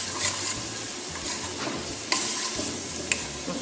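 Ingredients are being stirred and mixed with honey in a sizzling pan, scraping strokes over a continuous frying hiss at close range, with no talking.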